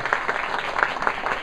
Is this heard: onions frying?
no